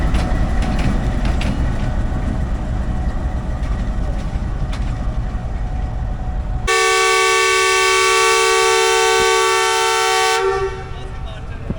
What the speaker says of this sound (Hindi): डिपार्चर विसल आपने सुना, और 7 साल बाद बाबू पैसेंजर का डिपार्चर विसल हुआ है